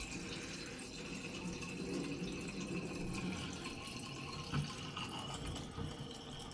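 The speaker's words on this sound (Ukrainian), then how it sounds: "Вода рівень піднімається." Water rushes steadily into a toilet cistern as the float valve lets it refill, a continuous close hiss and gurgle with no voices.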